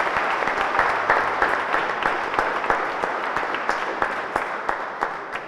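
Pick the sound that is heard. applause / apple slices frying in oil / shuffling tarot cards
applause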